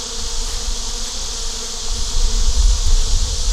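Honey bees massing outside an open hive on a hot day, a dense close buzz droning continuously and swelling louder toward the end.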